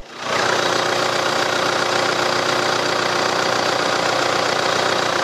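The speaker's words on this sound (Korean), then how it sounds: "엔진룸 열었고요. 소리 바로 들어볼게요." A Hyundai Maxcruz engine idles steadily at close range with the hood open, a loud, even rumble with a constant mechanical hum and no voices.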